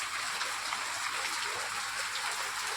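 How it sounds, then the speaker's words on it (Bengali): Rain falls steadily nearby as a dense, even hiss of drops, with no pauses over a short stretch and no voices. "এখন বৃষ্টি হচ্ছে, পুরো ওয়েদারটা ঠান্ডা হয়ে গেল।"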